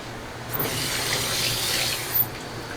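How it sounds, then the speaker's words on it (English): Kitchen sink tap running steadily while hands are washed, a soft continuous hiss of flowing water with small splashes, close and moderately quiet, no talk. "Let me wash my hand."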